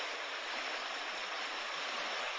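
A creek running after rain makes a steady, broadband rush of flowing water, close and continuous with no voices.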